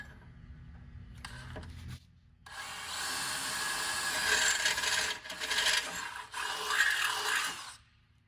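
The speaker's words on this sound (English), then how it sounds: "Now we're going to go ahead and drill 1/4-inch hole through this opening right here." A power drill whirs loudly, boring a quarter-inch hole through a 2022 Toyota Tundra's steel frame for several seconds in rough, uneven bursts after a brief quieter start.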